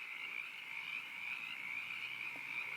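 A frog calls nonstop in a steady, high, buzzing trill that holds unbroken for several seconds, fairly quiet against an otherwise still background.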